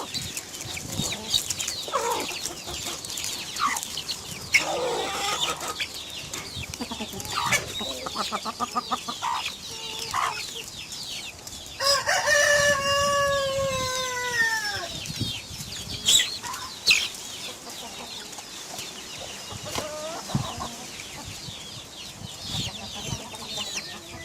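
Chickens cluck and squawk on and off throughout, with a rooster-like crow rising in the middle and some wing flapping nearby.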